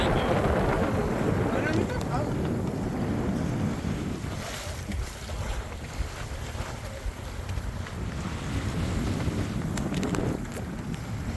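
A Catalina 30 sailboat under way in steady wind, with a continuous roar of wind buffeting the microphone over rushing water against the hull; faint voices surface now and then beneath the noise.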